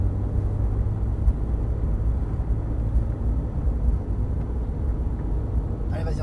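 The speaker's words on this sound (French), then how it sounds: "on prend la piste progressivement. Donc 4 tours, la Porsche GT3 sur circuit Nogaro." A Porsche 997 GT3 rolls onto the Nogaro circuit with a steady deep engine rumble, heard close from inside the cabin as the car moves off gradually at low speed.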